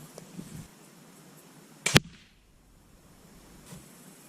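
A single sharp crossbow shot from a TenPoint Venom X being sighted in, a loud close snap with a brief decaying whoosh after it, set against quiet outdoor background.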